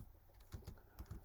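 Quick taps on a computer keyboard while entering code, a short uneven run of soft, close keystrokes.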